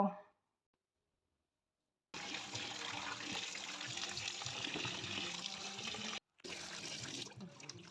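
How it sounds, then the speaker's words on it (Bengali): Raw mutton washed under running water in a kitchen: a steady hiss of flowing tap water with splashing, starting after a brief silence and cutting off briefly near the end, close and moderately loud. "এবার মটনটা আমি ধুয়ে পরিষ্কার করে নেব"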